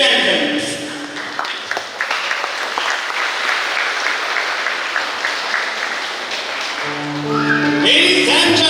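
Sustained applause from a crowd at a PCHS graduation ceremony as graduates make their entrance, loud and steady throughout with a brief tonal sound near the end.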